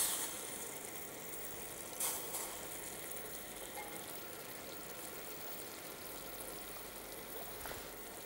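Sugar syrup boiling in a saucepan as it cooks toward the soft-ball stage, giving a steady, even bubbling hiss throughout with one or two slightly louder pops, no voices.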